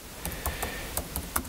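Light keystrokes on a computer keyboard as a search term goes into a web browser's search bar on a Mac, a handful of faint separate clicks spaced irregularly over quiet room tone, with no talking.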